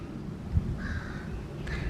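Birds call in a garden in the morning, with a crow cawing faintly at a distance over soft outdoor ambience. A few brief calls are scattered across the stretch, and no one speaks.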